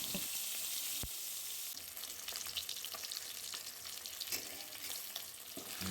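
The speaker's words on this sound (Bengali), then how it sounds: "মাছগুলো এবার নুন হলুদ মাখিয়ে ভালো করে ভেজে নেব" Fish rubbed with salt and turmeric fries in hot oil, a steady close sizzle broken by occasional sharp pops and stirring scrapes, with no one talking.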